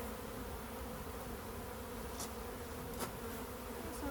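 Honeybees hum steadily around a hive entrance, a faint continuous buzzing drone with occasional brief clicks, no voices.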